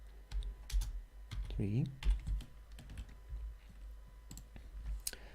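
Code being typed on a computer keyboard, rapid irregular key clicks and taps over a low hum, with a person speaking briefly partway through.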